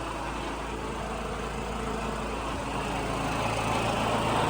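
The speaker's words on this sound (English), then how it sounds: "Excuse the generator noise" A portable generator drones loudly and steadily without pause inside a small race shop, a constant broadband roar.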